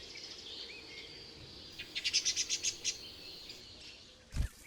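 An icterine warbler sings at the edge of a forest, a quick run of bright, repeated chirping notes in the middle of the clip, fairly close over quiet outdoor background.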